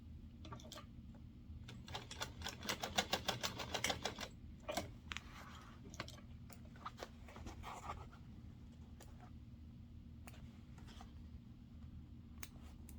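A sewing machine stitching over webbing, a fast run of sharp mechanical ticks that builds in the first few seconds, then thins into sparse, scattered clicks.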